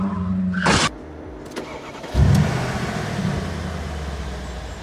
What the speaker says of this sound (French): Ah, c'est un véhicule allemand, ça.